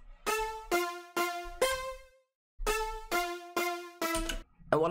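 Layered synth lead melody built in FL Studio for a track, bright harmonic stabs in short rhythmic phrases with a brief gap midway, dry and upfront with no voice over it.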